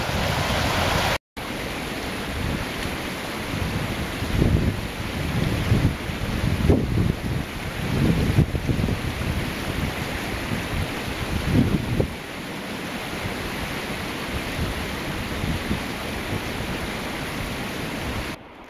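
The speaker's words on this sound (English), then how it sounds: "Just your basic waterfall in the backyard." Waterfall and small river in mountain backcountry on the Hardangervidda plateau in Norway, a steady broadband rush of falling and flowing water, loud and continuous throughout, with no talk.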